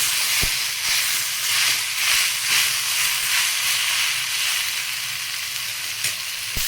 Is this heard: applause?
no